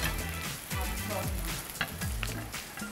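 Bread slices frying in butter in a pan for homemade İskender sizzle steadily and close, with brief scraping sounds as the pieces are moved around. No one speaks.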